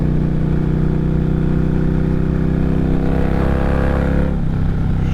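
A loud, steady engine drone from an Indian Challenger motorcycle cruising along, holding a constant note up close with wind rush, then shifting slightly near the end with no talking.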